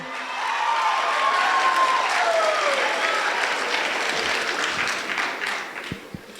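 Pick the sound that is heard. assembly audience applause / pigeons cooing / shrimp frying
assembly audience applause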